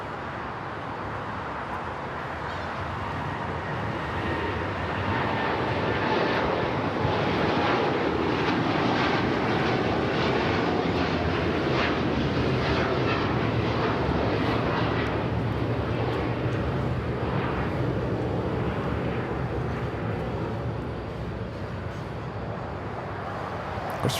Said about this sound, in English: United flight heading to Tokyo Haneda, flight 39 now rolling down at 25 right.